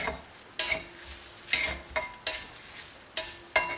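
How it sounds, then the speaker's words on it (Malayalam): Spoon stirring sliced shallots frying in a pan for Kerala varutharacha chicken curry: soft steady sizzle with a series of sharp metal scrapes and clinks roughly every second, close and without voices. "വീണ്ടും ഇളക്കി കൊടുക്കുക"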